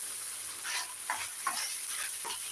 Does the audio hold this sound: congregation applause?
no